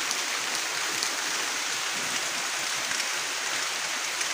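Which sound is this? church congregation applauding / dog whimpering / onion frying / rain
rain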